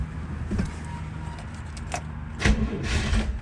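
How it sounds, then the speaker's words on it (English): A 1965 Oldsmobile Cutlass engine turns over briefly and catches, the start rumbling low with a louder surge near the end, heard close by with no talking. "see if the engine cranks"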